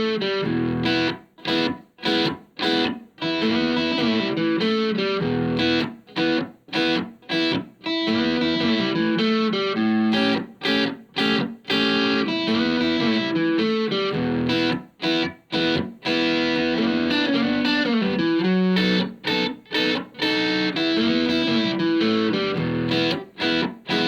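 A Texas blues groove played slowly on an electric guitar with a gritty, distorted tone: continuous chords and riffs with short rhythmic breaks between phrases, heard alone.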